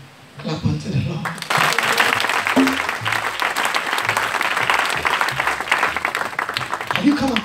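Congregation clapping during an all-night prophetic church service, loud and continuous with voices and crowd noise mixed throughout.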